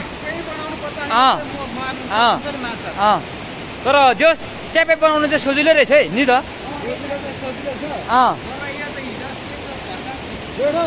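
A river stream flows steadily at the mouth of a gorge, a constant broadband rush under frequent close talk from several people.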